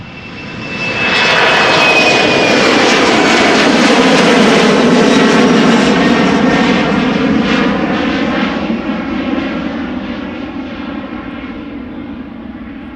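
KLM Embraer 190 jet airliner taking off at Amsterdam Schiphol, its engines building quickly to a loud, sustained roar that slowly fades as the aircraft climbs away.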